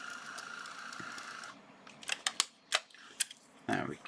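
A small label maker printing a label for a parts drawer gives a steady whir, then a string of sharp clicks and snaps as the tape feeds and is cut, close on a bench after brief talk.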